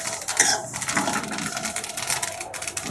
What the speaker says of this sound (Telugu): నువ్వులు చిటపట్లు ఆడుకొని చూసారా